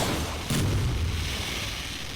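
Artillery fire landing close in a Vietnam war video game, a single deep heavy boom that hits suddenly and rolls into a sustained low rumble.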